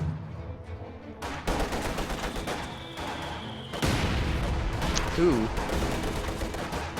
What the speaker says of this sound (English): Guards being forced away by that mortar half track.